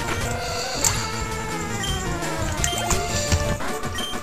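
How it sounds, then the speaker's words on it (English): Splashy, watery attack effect from Pokemon Leaf Green, a dense stream of liquid bubbling and dripping sounds with bright bursts, steady and loud throughout. "There's his first water move."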